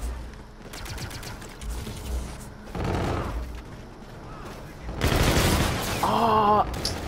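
Bursts of automatic gunfire in a video game, rapid rattling volleys with louder, denser firing toward the end, heard close over a background of game noise.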